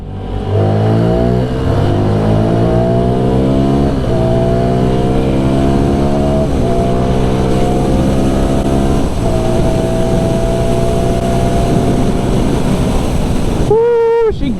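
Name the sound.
CF Moto NK 300 motorcycle accelerating in second gear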